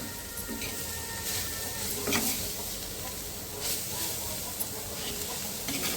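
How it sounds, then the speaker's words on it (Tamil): Guava leaves sauté in a pan with a steady hiss and light sizzle, broken by occasional soft stirring scrapes of a spatula, close and continuous with no voices. "லைட்டாக ஒரு நிமிஷம் வதங்கட்டும்"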